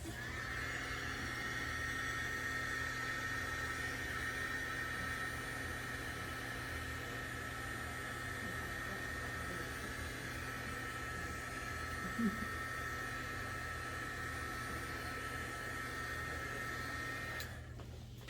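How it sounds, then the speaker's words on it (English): A heat gun blows continuously while drying watercolor paint on a postcard, a steady close whirring hiss that holds throughout and cuts off near the end. "I'm going to use my heat gun here to dry this."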